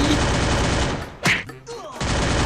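Loud, rapid video game gunfire fills most of the moment, briefly broken by a sharp burst and a short lull before dense firing resumes.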